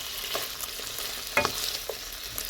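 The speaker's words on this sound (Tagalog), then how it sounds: "Lutuin talaga natin yung liver" Beef liver frying in a pan, a low steady sizzle broken by a few short stirring knocks, one sharper spatula scrape standing out near the middle.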